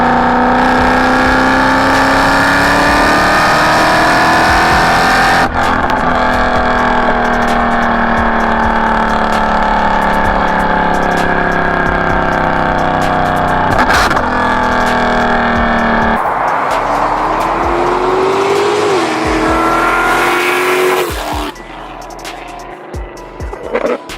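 A Weistec supercharged Mercedes CLK63 AMG engine revs loud and close, its steady drone rising and falling through several long pulls with a sharp shift midway and a brief lift near the end, with no voices over it.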